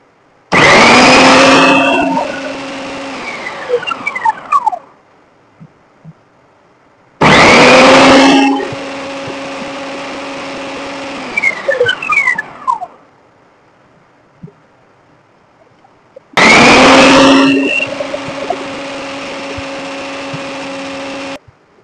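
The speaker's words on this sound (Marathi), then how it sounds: "आता मी इथे कारली घेतली आहे, कारली कशी स्लाइस होतात ते पाहून घेऊया एकदा." A Philips food processor slicing bitter gourd runs in three loud bursts of a few seconds each, each motor whine spinning up sharply and winding down, separated by near silence.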